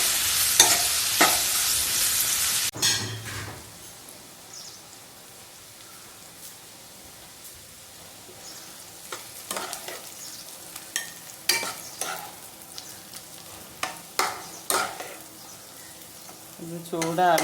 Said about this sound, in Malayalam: അണ്ടിപ്പരിപ്പാണ്. 10 മിനിറ്റ് ഇടാം. നമുക്കത് ഫ്രൈ ചെയ്യാം.